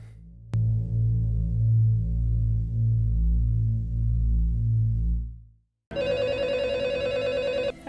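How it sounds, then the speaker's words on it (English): A telephone rings in the opening of the Scream 4 movie: a steady low electronic trill pulses for about five seconds, stops briefly, then a brighter, harsher ring starts loud and close. "Hey, it's the phone."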